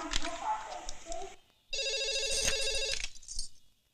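A telephone rings with a steady, bright electronic trill for over a second, following a short stretch of voices.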